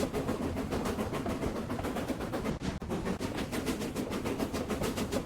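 A train rumbles along steadily with a rhythmic clickety-clack of wheels on rails, loud and continuous throughout.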